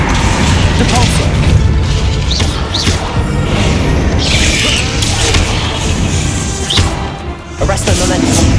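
Spell effects from Hogwarts Legacy fire off in a dense, loud string of booms, crashes and whooshing impacts, one after another with barely a pause, while a voice calls out spell names over the din.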